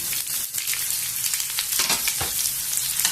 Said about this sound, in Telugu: కొద్దిగా కలర్ వచ్చేంత వరకు వేయించుకున్నాము.